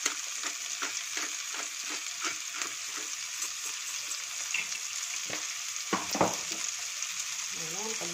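Chicken and vegetables frying in a pan for a quiche, a steady close sizzle broken by a run of regular spoon scrapes and stirring knocks, with no voices.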